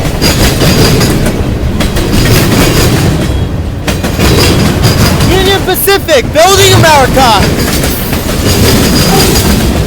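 A heavy manifest freight train with lumber-laden beam flat cars and high cube box cars rumbles past close by in the mountains, with continuous clattering wheels and a loud horn blast partway through, while a person talks over it.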